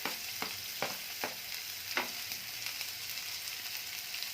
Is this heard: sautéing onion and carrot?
yes